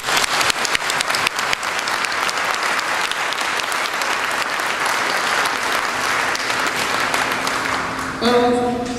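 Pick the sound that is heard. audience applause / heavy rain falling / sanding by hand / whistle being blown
audience applause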